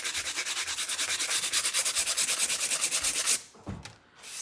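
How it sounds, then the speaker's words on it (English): Rapid, rhythmic back-and-forth strokes of sandpaper rub the rough edges of cut wooden sunflower pieces for a fence decoration, close and steady, then stop with a few brief handling sounds. "I'm really gonna have to see if this sandpaper will make it somewhat better."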